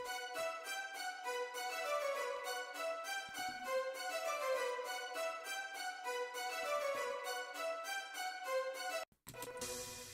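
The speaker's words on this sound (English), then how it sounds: "we did have this string lead going on" A synthesized string lead from a Friday Night Funkin' style track intro runs through rising and falling melodic lines over a low bass bed, then cuts off abruptly near the end before something else starts.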